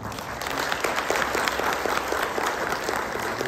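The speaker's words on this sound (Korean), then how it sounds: "좋은 발표해 주신 박정훈 대표님께 큰 박수 부탁드립니다" A seminar audience in a Korean conference hall claps steadily for a presenter after a talk, an even, moderately loud wash of applause lasting a few seconds without talk over it.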